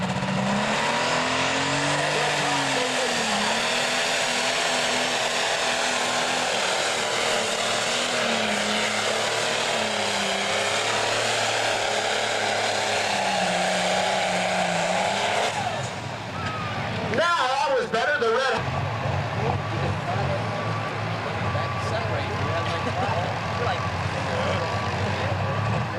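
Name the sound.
Super Stock pulling tractor, International, making its pass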